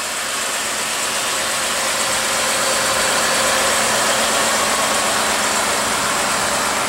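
A 2016 Ford F-150 with a 5.0 L V8 idles in a steady, even rumble with a broad hiss, loud and unbroken throughout, with no one speaking.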